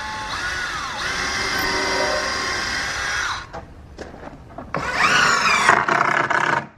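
A power drill drives 3-inch coated deck screws into wood, its motor whine running steadily for over three seconds, pausing with faint clicks, then surging again in a second loud, close burst.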